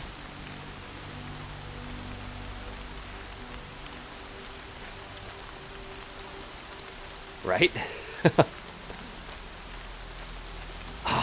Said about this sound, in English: the rain and hearing it blowing through the trees and everything is so convincing